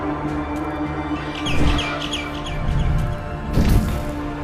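Two short bursts of bird squawks and chirps from Garden of Banban 6 stand out against a continuous droning background hum, the second call sharper and louder than the first.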